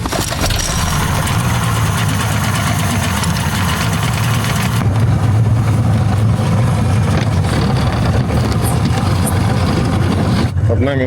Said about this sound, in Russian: Я даже прогрел мотор уже.